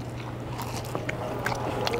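Close, crisp crunching and chewing as someone bites into a large, crunchy fried onion ring, with a low steady hum in the background.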